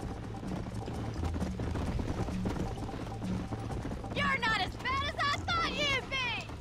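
A horse gallops in a race in the Xbox 360 game Red Dead Redemption, hooves thudding in a fast, steady clip-clop, with a person talking over the second half.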